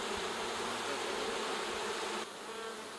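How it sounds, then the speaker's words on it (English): Bees buzz at the entrance of a small nuc hive, a dense continuous hum close by and fairly faint, with no talking. "Already the bees are on the front of the hive"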